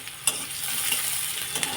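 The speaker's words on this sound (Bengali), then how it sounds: "একটু হালকা ভাজা ভাজা হয়ে গেলে সবজিগুলো সব কড়াইতে দিয়ে দেবো।" Vegetables sizzle in a hot wok, likely over a wood or gas stove, with a steady hiss and a few sharp scrapes of stirring, moderately close and without talk.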